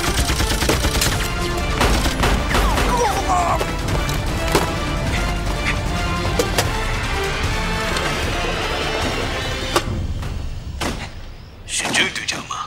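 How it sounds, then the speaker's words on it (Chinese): Gunfire in a night battle, loud rapid bursts and sharp cracks repeating across the scene, mixed with thuds and voices under the shooting, before it thins out near the end. "我听到枪声了"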